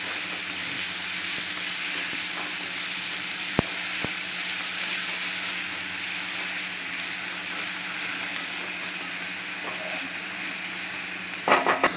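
Sliced onions fry in a pan until reddish-brown for Maharashtrian baingan bharta, giving a loud, even sizzle throughout with a couple of sharp utensil clicks and some stirring scrapes near the end.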